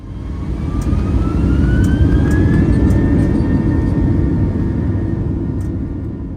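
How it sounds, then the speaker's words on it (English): A passenger jet airplane taking off at night, its engines producing a loud, sustained roar with a rising whine, steady and close from inside the cabin. "We finally took off at 3:31 a.m."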